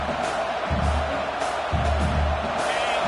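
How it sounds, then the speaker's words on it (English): Stadium crowd roaring at a Nebraska college football game against SMU, a broad, steady wash of distant cheering that fills the whole moment without a break. "The roar of the crowd trying to fuel this defense to keep them pinned in their own end."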